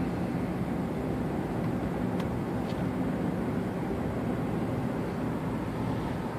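A 1998 Jaguar XJ8 cruising on the road at about 35 mph, heard from inside as a steady, even wash of road and engine rumble with no talking.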